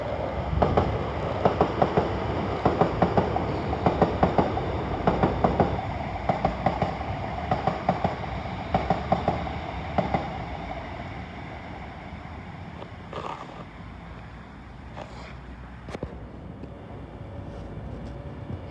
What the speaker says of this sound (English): It's a London Northwestern Railway 350.